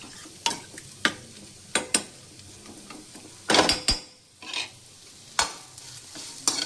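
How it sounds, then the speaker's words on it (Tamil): Tomato thokku cooking in a pan, with a soft sizzle under repeated sharp scrapes and clinks of a spoon stirring against the pan, close and fairly quiet, with no talking. "இது நல்லா இப்போ கொதிச்சு வரட்டும்"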